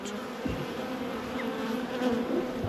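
Honey bees buzz steadily around beehives in an apiary in January, a dense continuous drone close by with individual bees passing near, no voices.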